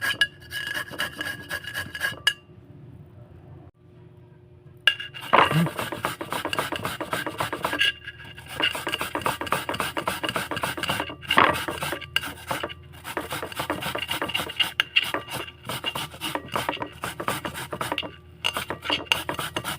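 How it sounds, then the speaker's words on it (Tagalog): An apple rubbed over a metal grater: steady rasping scrapes in quick back-and-forth strokes, close and clear, broken by a few short pauses. "So, i-grate na natin."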